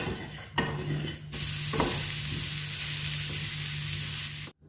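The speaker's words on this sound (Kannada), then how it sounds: "ಅದಕ್ಕೆ ಡ್ರೈ ಫ್ರೈ ಮಾಡ್ಕೋಬೇಕು" Small sardines dry frying in a pan for pulimunchi give an even, moderate sizzle with a faint hum beneath, broken by a stirring scrape or two, then cutting off abruptly at the end.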